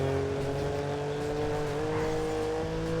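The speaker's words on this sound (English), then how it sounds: "Now you can have a BMW sound." A BMW car engine in a video game drones steadily throughout, a sustained revving hum with tonal harmonics and slight pitch shifts, loud and unbroken.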